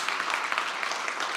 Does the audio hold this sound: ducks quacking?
no